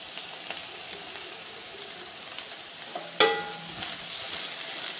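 Ivy gourd sautéing in an iron kadai, a low steady sizzle close by with faint stirring, then one sharp metallic clink partway through followed by slightly livelier frying.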